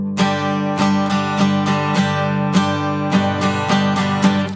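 Guitar strummed in a plain, unaccented down-down-down-up pattern, with bright, evenly spaced strokes ringing through sustained chords, close and alone with no voices.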